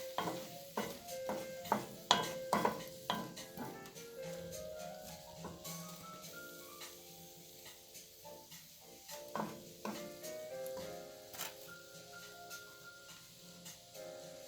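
Sausage fries quietly in a skillet while a wooden spoon stirs and scrapes it in repeated knocks, with a faint sizzle continuing underneath and no talking.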